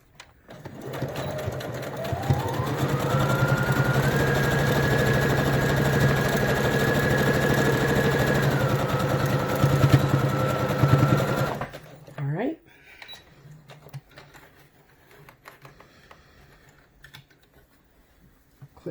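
A sewing machine runs a quarter-inch seam on a fabric face mask, its motor humming steadily for about eleven seconds with a rising whine in the middle, then stopping abruptly, leaving quieter handling noises.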